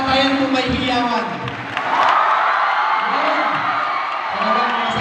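Graduates at a school completion ceremony clap, shout and whoop together in a loud, lively crowd roar, with voices rising and falling throughout.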